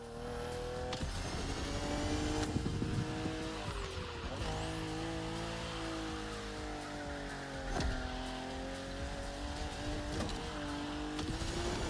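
A BMW M4 CSL engine pulls hard in the racing game The Crew Motorfest, its steady tone rising and dipping through gear changes, close and continuous with no voices.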